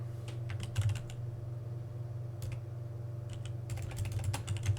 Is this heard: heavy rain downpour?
no